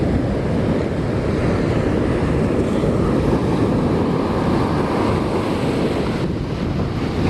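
Ocean surf washing back off a North Carolina beach, a steady broad roar of water heavily buffeted by wind noise on the microphone, with no voices.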